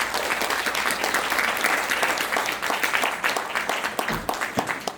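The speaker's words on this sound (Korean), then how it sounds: "박수로 하겠습니다" A church congregation at a missions conference applauding, loud sustained clapping from many people that thins into scattered individual claps near the end.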